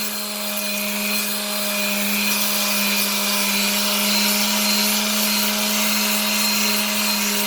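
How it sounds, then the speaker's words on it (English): A power sander grinds rust off a vintage railplate held down securely, running in a loud, continuous droning whir with a strong steady hum throughout. "Sanding down the sides of the shoulders."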